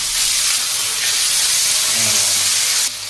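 Cut potatoes dropped into hot oil with tempered cumin seeds, giving a loud, steady sizzling hiss close by that holds throughout before easing slightly at the end.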